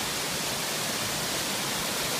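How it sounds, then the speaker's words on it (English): A small waterfall along the Wailua River on Kaua'i, a continuous broad rushing roar, steady and fairly loud with no other sounds over it. "Very pretty little waterfall here."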